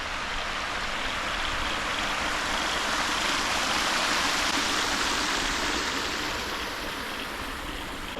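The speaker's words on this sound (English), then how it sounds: "Because I found a little tiny waterfall." Water splashes and rushes continuously over rocks in a small cascade near a lake by an old dam in Australia, close by and steady, with no voices.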